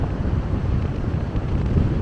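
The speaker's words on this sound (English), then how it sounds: "Very windy," Strong wind buffets the microphone on Lanzarote in the Canary Islands, a steady low roar with gusty rumbling pulses throughout, no voices.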